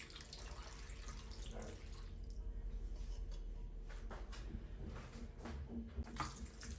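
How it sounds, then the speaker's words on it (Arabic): Water running from a tap into a bowl of cut potatoes, a steady low splashing gush that continues throughout at moderate volume. "من بعد ما قطعت البنات البطاطا دابا غادي نزيد ليها الماء."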